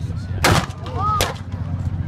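German 75mm artillery cannons fire in a WW2 battle video game, two heavy booming blasts about three-quarters of a second apart, loud over constant battlefield rumble.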